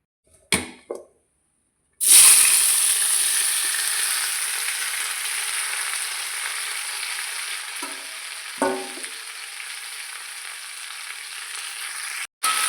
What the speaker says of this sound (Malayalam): ഇനി ഇതിലേക്ക് അരിഞ്ഞ് വെച്ചേക്കണ ചക്ക ഇട്ട് വഴറ്റാം.